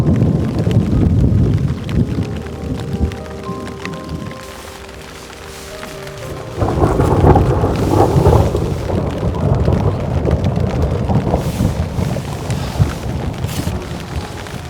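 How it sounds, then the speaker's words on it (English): Heavy rain and large hail pelt a tent with steady broadband roar, wind buffeting the microphone, a deep rumble of thunder swelling partway through. "There's some huge hail and thunderstorms going on out there."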